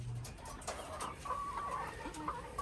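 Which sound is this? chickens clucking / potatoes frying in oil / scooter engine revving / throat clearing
chickens clucking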